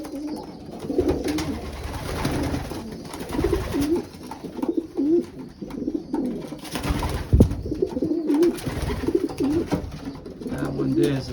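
Pigeons cooing in a loft: repeated soft, low coos from several birds close by, with someone talking intermittently over them and some rustling and shuffling in the background.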